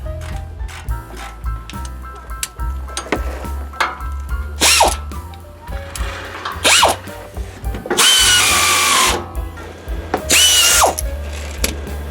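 A power drill drives a cap screw into an old Chevy truck steering gear, in several short whirring bursts with ratcheting clicks and metallic clatter between them, close and fairly loud.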